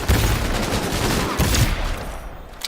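Rapid gunfire from a low-recoil gun in the video game Cyberpunk 2077, a dense, loud burst of shots running almost continuously before easing off near the end.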